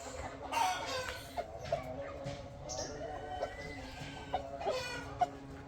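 A rooster clucks in short bursts near a farmyard wall, a few sharp calls standing out over faint background noise, with no one talking.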